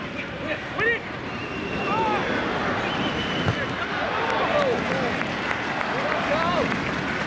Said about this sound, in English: The crowd are starting to get very vocal as well